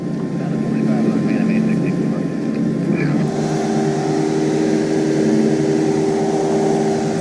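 A fixed-wing aircraft's engines drone loudly and steadily on landing approach over a runway threshold, a continuous cabin roar with a shift in tone partway through.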